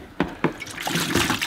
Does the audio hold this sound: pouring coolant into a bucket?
yes